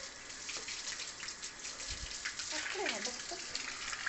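Water runs and splashes steadily into a container, a constant close gush with a few drips and bubbling, while voices talk over it.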